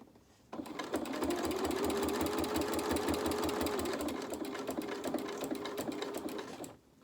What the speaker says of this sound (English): I'm just going to sew off to the edge at a 45-degree angle